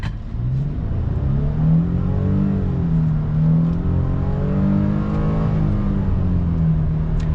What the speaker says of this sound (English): I'll kind of get you guys an acceleration from a standstill